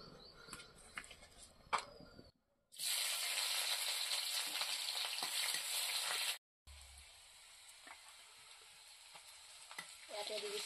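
Ginger, garlic and black pepper fry in hot oil in a wok, a loud, steady sizzle that bursts in after quieter stirring clatter, cuts out briefly, then settles into a softer sizzle.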